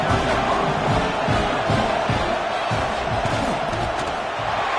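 Home crowd roaring in a stadium at an American football game after a touchdown, a dense sustained wall of cheering and chanting with rhythmic swells, loud and continuous, with a faint commentator voice mixed in.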